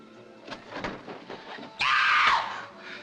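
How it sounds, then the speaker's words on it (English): A woman's sudden loud scream in a black-and-white crime film-noir thriller, cutting sharply through quieter room sounds and lasting about a second before fading. "Somebody screamed."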